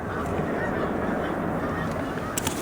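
A large flock of snow geese on Cayuga Lake keeps up a dense, continuous chorus of overlapping honks, moderately loud and steady throughout.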